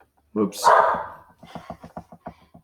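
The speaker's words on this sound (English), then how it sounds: "That's my dog." A pet dog barks a few times nearby, a sharp bark followed by a run of short quieter yips and whimpers, with a voice briefly heard.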